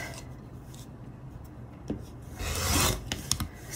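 A blade or rotary cutter trims quilted fabric against a ruler on a marked cutting table, a soft close rasping rub that swells into a longer, louder scrape near the end, with no talking.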